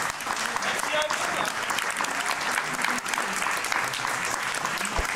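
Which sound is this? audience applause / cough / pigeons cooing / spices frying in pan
audience applause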